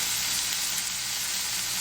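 Onions frying in a pan to caramelize, giving a steady, close, even sizzle with no pauses and no voices.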